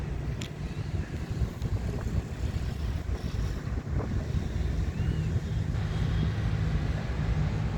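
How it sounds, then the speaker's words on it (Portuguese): Autumn wind blowing steadily outdoors, a continuous broadband rush with buffeting gusts against the microphone, loud and unbroken throughout with no voices. "Tá um vento de outono aqui."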